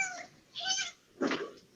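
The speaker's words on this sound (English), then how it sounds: "Can you hear cat?" A domestic cat meows twice, close and fairly clear, with a short pause between the two calls and no talk over them.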